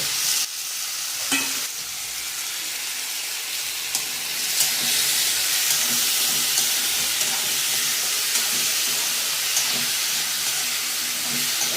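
Peeled, cut potato pieces roast in a hot pan with a steady, loud sizzle and hiss that runs throughout, with occasional faint scrapes of stirring. No one speaks.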